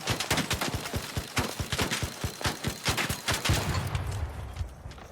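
The Bettina weapon firing at ARC enemies in ARC Raiders, a close, steady string of sharp rhythmic shots lasting several seconds, then a thud and fading debris noise.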